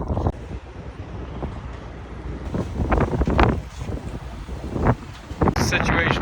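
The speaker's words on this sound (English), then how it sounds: "Winds are blowing like crazy." Strong, gusting wind roars across the microphone during a sandstorm in the desert of Guadalupe Mountains National Park, a steady buffeting rumble with louder surges and broadband whooshes throughout.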